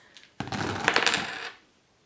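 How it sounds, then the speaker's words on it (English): A handful of board-game coins of varying thickness drop and clatter together in one close, bright burst of jingling that settles after about a second. "We also have a handful of coins."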